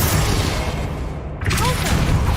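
Booming explosive spell blasts of Bombarda and Confringo in Hogwarts Legacy, a loud rumbling roar with overlapping impacts and a sharp crackling burst midway, continuous and close.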